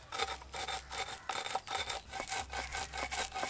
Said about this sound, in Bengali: এবার এই বেলনি দিয়েই গুঁড়ো করে নেব।